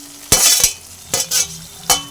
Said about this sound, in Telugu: కొంచెం కొత్తిమీర, కొంచెం కరివేపాకు, ఉల్లిపాయలు, కొంచెం ఆయిల్ వేసుకొని ఉల్లిపాయలు, కొత్తిమీర